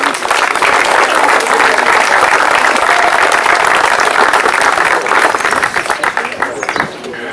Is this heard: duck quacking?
no